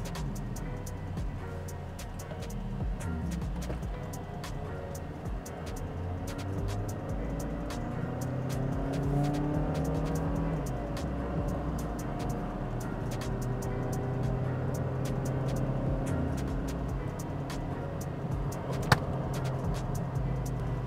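Steady cabin drone from a 2024 Mazda CX-3 with a 1.5 engine climbing a slope, a low continuous engine hum with gradually shifting pitch, moderately loud and without talk.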